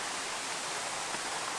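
A small trickle of a waterfall feeding a thermal valley near Taipei, heard as a steady, hissing wash of falling water, bright and even with no pauses or voices.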